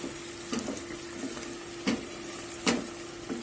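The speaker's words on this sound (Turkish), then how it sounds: "Sarımsaklarımızı da kattık güzelce. İyice pişireceğiz bunları." Garlic frying in a pan for Kayseri yağlama, a low steady sizzle with a few sharper stirring clatters and bumps, close and fairly quiet with no talk.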